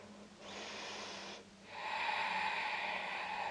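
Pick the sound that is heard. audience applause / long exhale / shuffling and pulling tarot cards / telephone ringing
long exhale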